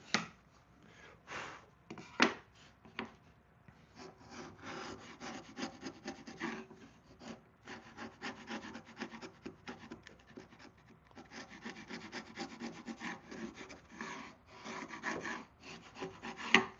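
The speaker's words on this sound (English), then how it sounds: "I'm gonna sand it all down." Wooden egg holders are rubbed by hand with sandpaper in quick, irregular back-and-forth strokes, a close, gritty scratching that comes in bursts with short pauses.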